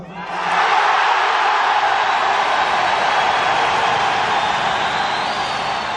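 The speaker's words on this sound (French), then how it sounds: "les applaudissements, ça me donne des frissons" A large crowd breaks into sustained, loud applause and cheering after René Lévesque's referendum speech, a dense roar that swells quickly and holds steady.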